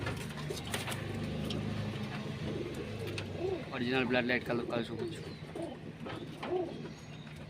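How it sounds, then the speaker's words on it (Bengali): Pigeons coo in a loft housing large hens: soft, repeated rolling coos rise and fall close by while someone talks over them throughout. "খুব সুন্দর সুন্দর কোয়ালিটির পায়রা"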